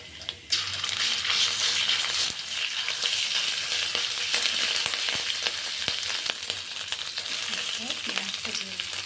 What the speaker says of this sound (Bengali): রসুনটা ভালো ভাজা হয়ে দিই। তারপরে আদাটা দিয়ে দিলাম